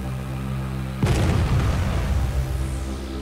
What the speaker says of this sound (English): we'll show an artillery strike in action